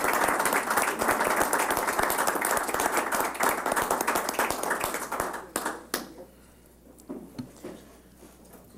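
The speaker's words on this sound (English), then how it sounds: "Another round of applause for these guys." Steady clapping from the room at a school board work session runs for about five seconds, then fades out into a quiet hall with a few scattered claps.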